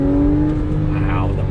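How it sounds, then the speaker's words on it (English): A Porsche 911 4S engine growls loudly as it downshifts through paddle shifters, the revs blipping and dropping in a short burst, with someone talking over the engine. "I'm using the paddles because I want to hear those glorious downshifts."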